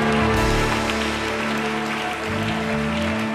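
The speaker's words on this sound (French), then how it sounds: "Alléluia, quelqu'un acclame Jésus-Christ" A church congregation applauds and cheers during a worship service, a dense continuous wash of clapping with music or voices underneath, loud and close.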